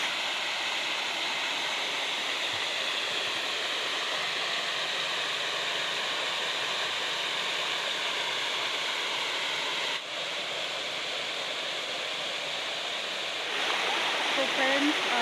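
An artificial waterfall at Jayadev Vatika park in Bhubaneswar gives a steady, loud, broad rush of falling water, close by and unbroken, with a slight rise in intensity near the end.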